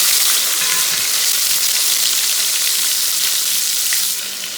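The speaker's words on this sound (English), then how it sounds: "Our oil is hot now, so the first thing I throw in is my dry salted catfish." Dry salted catfish frying in hot oil for a Gambian spicy fish stew, a steady loud hissing sizzle that fades slightly at the end, with no talk.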